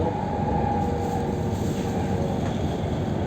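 Inside a Bangkok Airport Rail Link train heading to Suvarnabhumi, a constant loud rumble and drone of the moving carriage with a faint high whine fills the whole stretch.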